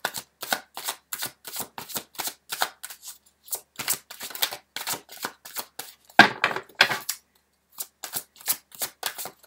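Tarot cards shuffled by hand in a long run of quick riffling bursts with short pauses between them, close and fairly crisp, with a louder flurry near the middle.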